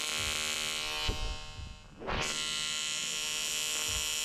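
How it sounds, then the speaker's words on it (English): Welding a new elbow onto intercooler piping in a garage for a turbo M50 engine in an E34 BMW produces a steady electric buzz, dropping out briefly twice before resuming, with no talking. "Welding the new elbow on the intercooler piping."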